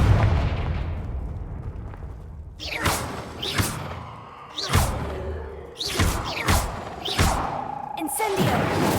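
Fire-blasting spell explosions in the Hogwarts Legacy video game: a string of sharp, loud booming bursts with whooshing tails, about six in nine seconds, over a constant low rumble of gameplay noise.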